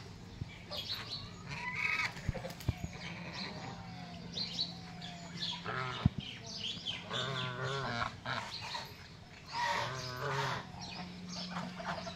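On a goose farm, a goat gives a few wavering bleats amid honking geese, chirping birds and scattered knocks, the calls coming in bursts at moderate distance.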